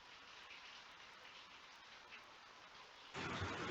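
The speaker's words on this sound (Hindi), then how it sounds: "बारिश पानी हो रहा है अभी" Steady rain falls throughout, a continuous dense hiss that swells louder and fuller near the end, with no voices.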